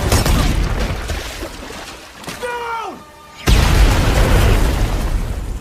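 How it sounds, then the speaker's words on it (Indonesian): An explosion in an action film scene, a short burst with a falling whistling tone, a brief hush, then a sudden loud broadband boom that keeps rumbling to the end. "akibat ledakan tersebut"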